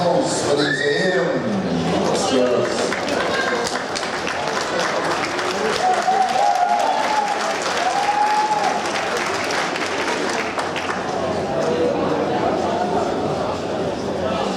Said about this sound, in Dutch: Applaus voor deze heren.